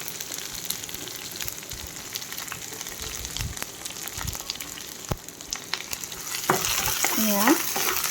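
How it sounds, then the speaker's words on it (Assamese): Chopped onions fry in a pan for a duck curry with pumpkin, a steady close sizzle with occasional stirring scrapes; the frying grows louder and busier toward the end, with no talk. "ভালকৈ মই পিঁয়াজটো ফ্ৰাই কৰি ল'ম।"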